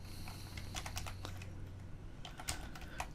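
Keys clatter on a computer keyboard in short uneven bursts over a steady low hum, close and fairly quiet, with pauses between clusters of keystrokes.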